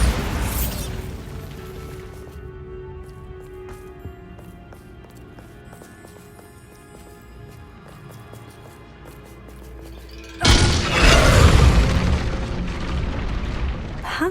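A Bombarda blasting spell explodes in Hogwarts Legacy: a sudden loud, roaring boom near the end, rumbling over a quieter backdrop of game music and ambience that follows an earlier burst.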